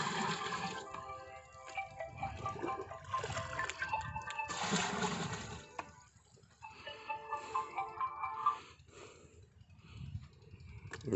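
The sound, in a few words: water pouring into a drum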